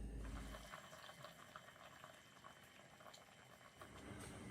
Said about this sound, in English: So now you can see what I mean by rolling boil. It's boiling over here